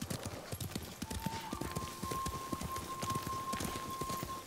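A horse's hooves clip-clop in a steady, fairly quick rhythm in the video game Ghost of Tsushima, soft and at mid distance, with a faint steady tone and light rain-like patter around them.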